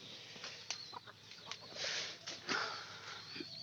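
Hens kept at a home egg-selling yard cluck in short, uneven bursts close by, with a few sharper calls rising over quiet background noise.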